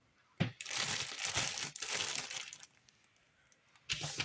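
A plastic bag crinkles and rustles loudly for about two seconds, then quiets, with a brief crackle at the end.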